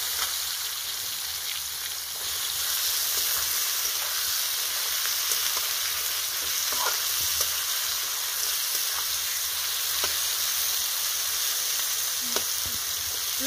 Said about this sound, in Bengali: এই যে পেঁয়াজগুলোকে লাল করে ভাজছি